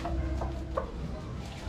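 A Grand Kelso stag rooster gives a few short, soft clucks close by over low background rumble.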